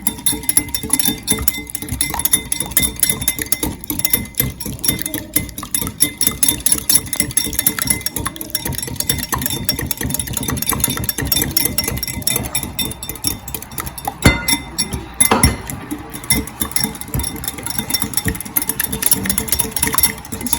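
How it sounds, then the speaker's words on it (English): Rapid, rhythmic clinking of a whisk beating egg and melted butter in a bowl, a steady close-up metallic rattle continuing with little pause, without speech. "Give that a good whisk."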